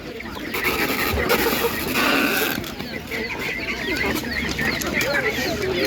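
Czech Dominant roosters and other poultry at an outdoor animal market give scattered clucks and calls close by, mixed with the bustle of the crowd and people talking over them.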